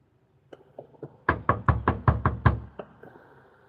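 Knuckles or a fist banging on a door: a couple of light taps, then a fast burst of seven loud, evenly spaced heavy knocks, close and clear with no talking.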